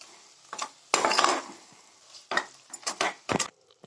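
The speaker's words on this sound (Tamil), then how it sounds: "இது எல்லாத்தையும் நல்லா மிக்ஸ் பண்ணிக்கோங்க." A spoon stirs chilli powder, turmeric and rock salt in a pan for veg salna, giving several close, scraping bursts of metal on the pan with quiet gaps between them and no talk.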